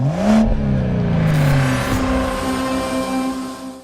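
An entry-level Porsche Boxster engine revs up loudly nearby, pitch climbing and then easing down into a steady, fading drone.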